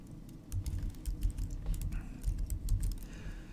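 Keys tapped on a computer keyboard while entering a linear-model regression formula: a quick, uneven patter of light keystrokes, close and fairly quiet, with no voice.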